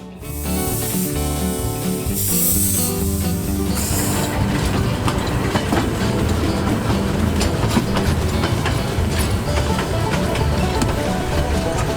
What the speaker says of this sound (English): The Redcliffs Historical Steam Railway operates a steam train known as Lukey